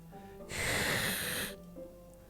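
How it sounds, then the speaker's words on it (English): A single harsh, sharp inhale through the teeth from the game Doki Doki Literature Club, loud and close for about a second, heard alone against faint background music. "It sounds like breathing."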